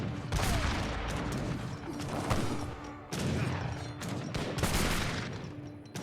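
Dense, continuous gunfire from musketeer volleys in the Age of Empires III strategy game, with overlapping crackling shots and sharp repeated bursts sustained loudly throughout.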